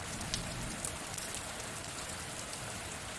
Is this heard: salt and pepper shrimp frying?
no